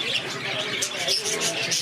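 Pigeons and other caged birds at a bustling bird market in Jhang Bazar, Faisalabad, giving steady chirps and coos under nearby chatter and crowd noise throughout.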